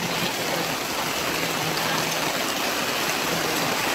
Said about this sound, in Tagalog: Mukhang ulan.